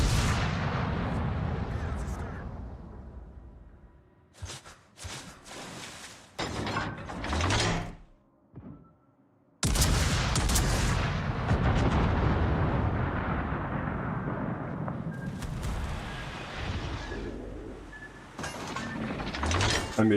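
Warship guns boom in World of Warships, heavy cannon blasts coming in a rapid fast-reload barrage, loud and close, with rumbling echoes and brief quiet gaps between salvos.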